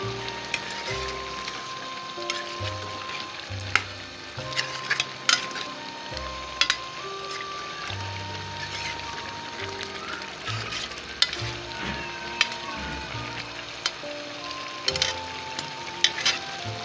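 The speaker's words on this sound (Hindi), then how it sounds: "और ये सब्ज़ मिर्ची शामिल कर रही हूँ।" Green chilies hit a pan of frying potatoes and green beans, raising a steady loud sizzle with occasional stirring scrapes and clinks throughout, close up, with no talking.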